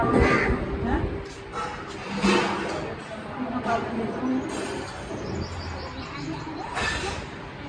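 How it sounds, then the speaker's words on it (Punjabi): Several crows caw at intervals, some close and some farther off, with steady outdoor background noise throughout. "ਆ ਗਏ ਹੌਲੀ ਹੌਲੀ ਆ ਜਾਣਗੇ ਕਾਂ"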